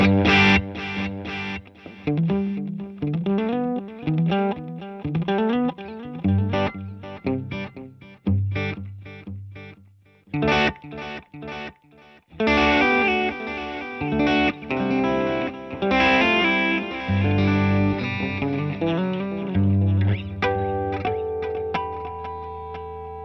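Electric guitar notes and chords ring out through a Sonicake Pocket Master ping-pong stereo delay, echoing repeats trailing after each phrase, played alone with no talking.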